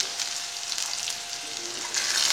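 Dried red chillies and small shallots sizzle in hot oil for a tempering, giving a steady close hiss that swells louder near the end, with no talk.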